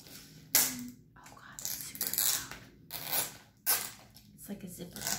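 A resealable zipper-style plastic seal on a grocery package is peeled open in several short ripping bursts, crisp and close, with quiet breathy talk between them.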